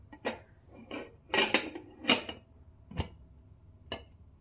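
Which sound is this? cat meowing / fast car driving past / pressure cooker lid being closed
pressure cooker lid being closed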